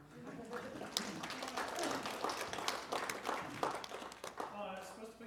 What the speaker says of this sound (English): You can clap for her.